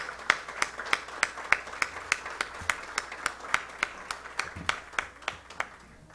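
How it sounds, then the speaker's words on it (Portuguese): Applause at a plenary meeting welcoming colleagues from the Americas, a sparse, evenly spaced series of sharp claps, about three per second, sounding like only a few people clapping in a quiet room. "vamos aplaudir aqui a presença dos nossos colegas"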